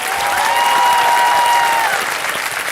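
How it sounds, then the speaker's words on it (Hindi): A television game-show studio audience on Kaun Banega Crorepati breaks into loud, sustained applause, dense and steady throughout, with a faint tonal musical sting gliding over it. "तालियां बच जाएं इनके लिए।"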